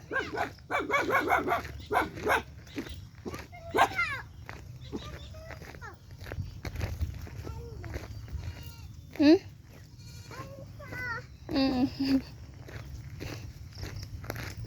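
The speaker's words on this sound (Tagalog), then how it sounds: "Ay! Mga kambing ha." Goats bleat repeatedly in short wavering calls, some close and loud, with a dog barking among them and footsteps and voices in the background.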